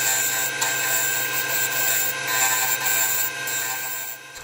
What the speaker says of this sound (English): That's using the 3/8 spindle gouge.